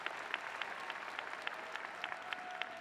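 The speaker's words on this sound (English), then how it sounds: "Yes, they deserve a round of applause." Audience applauds a graduating speaker's parents at a business school commencement ceremony, a steady clatter of hand claps with a few sharper individual claps standing out, moderately distant in a large hall.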